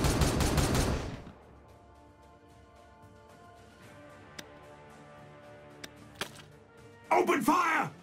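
Gunfire in Warhammer 40,000: Regicide: a loud opening burst of rapid shots, then a quiet stretch with a few sharp isolated cracks, and a final loud flurry of fire at the end.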